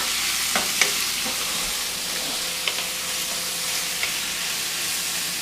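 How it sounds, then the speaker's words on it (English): Baby bok choy stems stir-frying in canola or olive oil, a steady bright sizzle running throughout with a few soft clicks and scrapes of stirring, close and even in level, no voices. "So you kind of, stir it all around and get the oil all over it."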